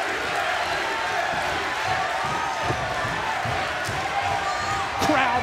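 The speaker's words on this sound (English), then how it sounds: "Crowd roaring, chanting the name of the challenger." Wrestling arena crowd at a TNA event roaring and chanting, a steady loud background swell with sharp thuds and slams, while a commentator talks over it.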